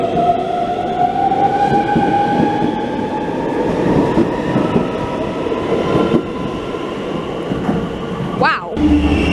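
A Danish train runs along the railway between Copenhagen and Malmö, giving a loud, continuous rumble with faint wheel clatter and a rising squeal near the end.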